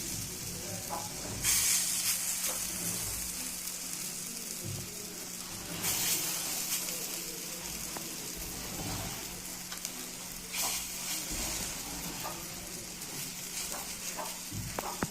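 Lentil fritters (bora) sizzling steadily in oil in a frying pan, a continuous soft hiss with occasional brighter crackling swells, no talking.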